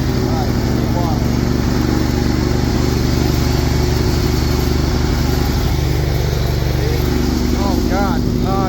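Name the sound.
forklift converted into a lawn mower, mowing grass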